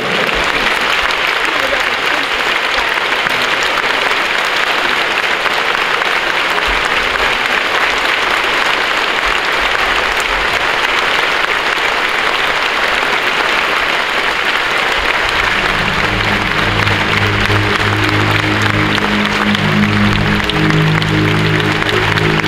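An outdoor crowd in a historic town centre in Botoșani applauds a pianist with loud, continuous clapping that runs unbroken for over twenty seconds, with low musical tones entering near the end.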